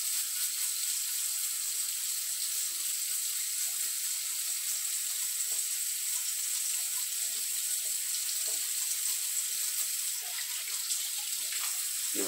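Water from a tap hisses steadily while rinsing a greasy bicycle fork, a continuous close splash and spray with faint clinks near the end.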